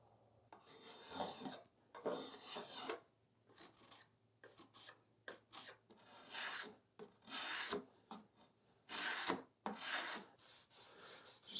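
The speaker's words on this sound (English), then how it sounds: "My mini block plane." A mini block plane shaves a bevel on a wooden Nazgul prop sword, a quick series of short rasping strokes in uneven rhythm, close and clear with brief silences between passes.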